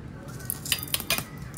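Chillies being slit open with a knife on a board, a few quiet clicking and scraping cuts spaced over a short moment, close and fairly faint, with no talk.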